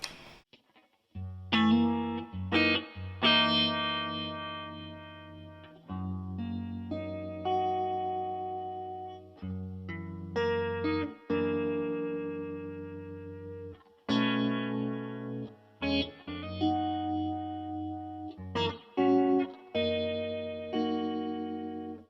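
Sustained chords pass through a Cornerstone Aquarium Vibe pedal's swirling, warbling rotary speaker effect, ramping from slow to fast speed and growing more intense, played alone without speech.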